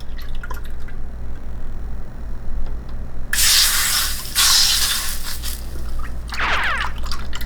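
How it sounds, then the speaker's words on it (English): Two cups of egg whites poured into a heated non-stick pan: a quiet stretch, then loud hissing, spattering sizzle in bursts as the liquid hits the hot surface, trailing off and flaring briefly again. "I'm gonna put in 2 cups of my egg whites in here."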